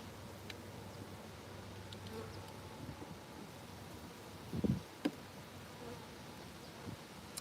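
Honeybees from an agitated hive buzzing around during a honey harvest, a faint steady drone over soft wind with a few louder close passes and one brief low thump.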